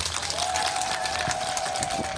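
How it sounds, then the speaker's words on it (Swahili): Applause from an audience at a Tunaishi Nao campaign gathering, a steady dense wash of many hands clapping that holds evenly throughout, with a faint sustained tone running underneath. "Tuwapigie makofi mengi sana."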